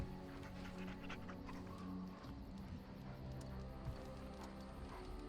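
A dog panting and whimpering as it is petted in the video game Dragon Age Origins, heard faintly and steadily beneath a dense, continuous game soundtrack.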